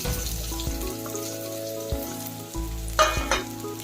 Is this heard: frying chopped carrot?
yes